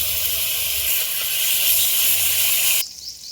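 Ginger garlic paste sizzles hard in hot ghee with whole cinnamon, cloves, shahi jeera and bay leaves for a jackfruit pulao, a loud steady hiss that drops away sharply near the end.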